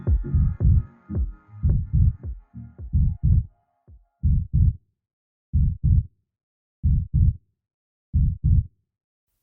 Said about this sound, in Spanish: Es el latido de nuestro corazón.